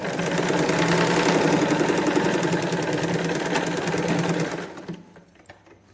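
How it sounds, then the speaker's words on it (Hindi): Domestic sewing machine stitching tucks into a 38-inch blouse, a steady rapid mechanical whir running loud and continuous for about four and a half seconds, then stopping with a few faint clicks. "एकदम सीधी स्टिच लगाएंगे हम।"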